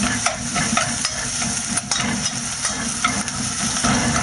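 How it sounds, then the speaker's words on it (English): Garlic sizzles and browns in a pan for a can stew, a steady close crackle with faint stirring, no voices. "Brown that garlic off"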